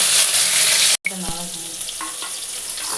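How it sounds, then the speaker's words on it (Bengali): Potato and cauliflower fry in a pan, a loud, close sizzle that cuts out for a moment and then returns softer, with a spatula clinking and scraping as the pieces are stirred. "ভালো করে ভেজে নেব।"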